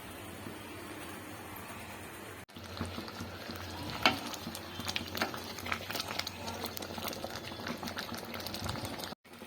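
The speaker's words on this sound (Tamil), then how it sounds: "நல்லா கொதிக்குதுங்க" Liquid bubbles and churns steadily in a pot, a dense close rolling boil with a few louder pops and a brief cutout, as lentils are added for vada curry.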